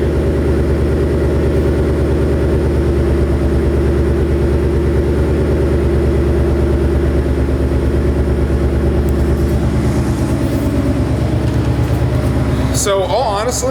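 2018-2021 Ford Mustang GT with an aftermarket exhaust idling in track mode, giving a loud, steady, deep rumbling burble close by for the whole stretch, with someone talking briefly at the end.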